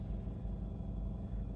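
A 2012 car vibrates while driving, giving a steady low rumble and droning hum close up with no break across the short stretch.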